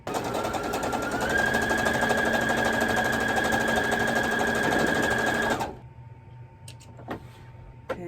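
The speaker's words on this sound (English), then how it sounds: "come and stitch this seam closed using the outside of the presser foot as my guide" A sewing machine stitching a seam closed with the presser foot as a guide, a steady rapid whirring hum with a fast needle rhythm for about five seconds, then stopping, followed by a few faint clicks and handling sounds.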